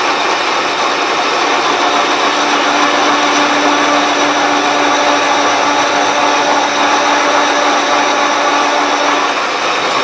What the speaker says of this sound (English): I'm going to bring it up until the edges of the drill are in full contact